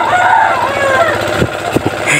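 A rooster crows once, fairly close and loud, over a low steady background hum, followed by a few short sharp knocks.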